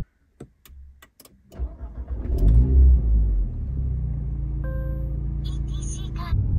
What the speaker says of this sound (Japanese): エンジン始動のね、音は今ちょっとここ挿入しておきましょう